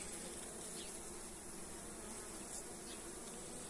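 A dense, continuous drone of honey bees buzzing around opened beehives as frames are inspected, steady and close, with no voices.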